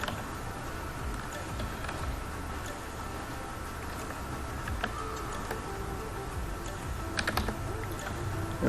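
Someone types on a computer keyboard, a steady run of quick clicking keystrokes over a constant background hum, with a few sharper clacks near the end and no talking.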